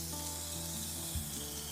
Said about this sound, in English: Okay, so that's gonna sizzle away.